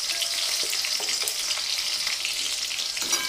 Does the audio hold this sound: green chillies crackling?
yes